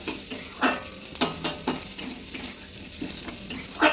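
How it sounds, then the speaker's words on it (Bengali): Close, steady sizzling of moong dal frying in mustard oil, broken by repeated scraping and stirring strokes against the pan. "সরষের তেলটি দেওয়ার পরে আমি মুগের ডালটি ভালো করে ভেজে নেব"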